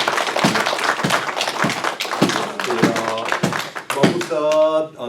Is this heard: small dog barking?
no